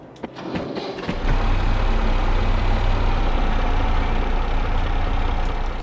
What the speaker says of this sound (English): Let me turn over that engine so you guys can hear it.